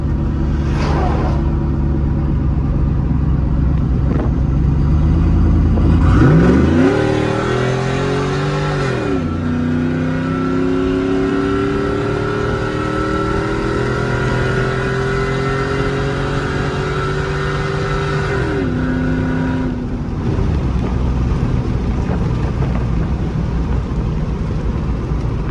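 A slammed, cammed single-cab pickup truck's engine revs up loudly and close, rising in pitch through a long pull. It then drops back to a choppy, lopey idle rumble, with wind noise throughout.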